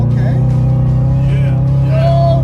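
A cheap sports car's engine held at a steady, loud, close drone during a downshift, with a short rising rev near the end, as someone speaks over it.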